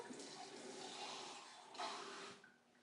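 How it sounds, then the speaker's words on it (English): Water poured steadily into a Thermomix bowl, a faint continuous splashing stream that brightens briefly near the end before trailing off, quiet and close with no talking. "And I can just pour in my water."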